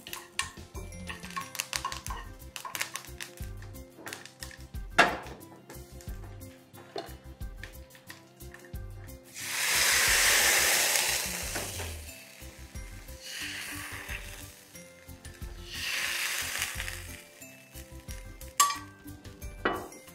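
Clinking pots and utensils, then two loud bursts of hissing sizzle as tempering spices hit hot oil for chicken soup, each fading after a few seconds.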